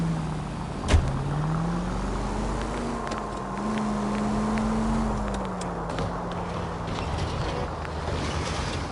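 Vintage car driving in the 1940s Los Angeles video game L.A. Noire, a steady engine drone whose pitch rises and holds as it accelerates, with a sharp knock near the start and no talk.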